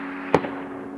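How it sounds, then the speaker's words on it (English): A single sharp crack from an AR rifle, a 14.5-inch factory build, fired at a range, one short distant-sounding report with a faint echo over a low steady hum. "Let's see what Miles is shooting today."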